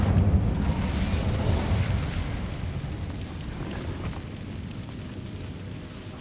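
An Incendio fire spell cast in Hogwarts Legacy erupts in a loud, deep whooshing burst that rumbles and slowly fades over several seconds, with no talking.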